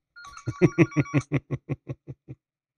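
A phone ringtone plays once, a rapid run of about a dozen loud, evenly spaced beeping tones that fade gradually toward the end, heard alone.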